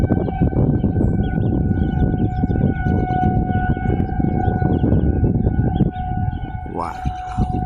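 An outdoor civil-defense tornado siren wails in a steady, loud sustained tone during a severe thunderstorm in Independence, Missouri, with rumbling wind and rain noise underneath and a brief rising sweep near the end.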